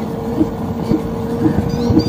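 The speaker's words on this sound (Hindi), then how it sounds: "ओवरऑल एक गाड़ी में आवाज आता था पक पक पक" A Revolt RV400 electric motorcycle gives a soft, evenly repeating pak-pak-pak knock, about two beats per second, over a steady low hum.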